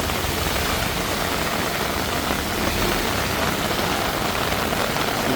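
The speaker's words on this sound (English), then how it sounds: "it's just too much rain" Heavy monsoon downpour in Bangkok, a dense, unbroken roar of rain that stays loud and even throughout, with no voices.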